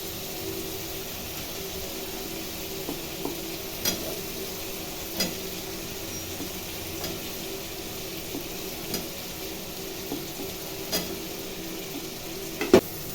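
Fried potatoes are stirred into melted tomato in a pan, giving a soft continuous sizzle broken by occasional clicks and scrapes of a spoon against the metal.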